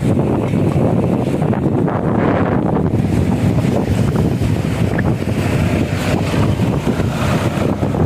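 A fierce storm wind blowing over a jammed road, gusting hard and buffeting the microphone in a loud, constant roar throughout.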